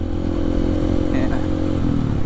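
A Kawasaki KLX D-Tracker motorcycle rides along a village road in Wonomulyo, Magetan, its engine droning steadily and close, with faint clattering and scraping over the two seconds.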